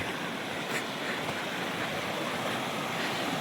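Steady broadband rush of a flowing river heard from right at the bank in a Rishikesh valley, a continuous, fairly loud wash of water with a faint wind-like hiss and no talking.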